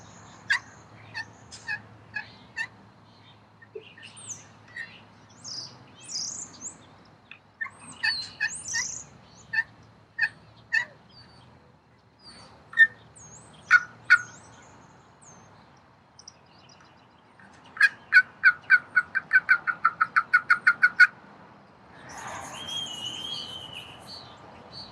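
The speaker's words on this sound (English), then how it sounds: "that's just some of the basic ones done with the slate call" Turkey slate call worked with a striker, giving sharp clucks and yelps in short bursts, then a rapid run of evenly spaced yelps near the end, all close and fairly loud with no talking.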